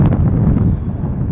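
Wind buffets a microphone outdoors on a warm, somewhat windy day in the Dallas-Fort Worth area, a loud low rumbling roar that surges and dips unevenly, with no talking over it.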